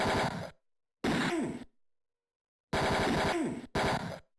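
Gunfire from the video game Mean Streets comes in loud, dense automatic bursts: two short bursts, a pause, then two more, each cutting off abruptly into silence.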